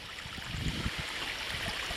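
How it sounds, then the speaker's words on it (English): A creek in Woodland Caribou Provincial Park, draining a large watershed in a dry year, flows with a steady broadband rush and soft gurgles, close and continuous with no voices. "This creek is draining quite a large watershed by now"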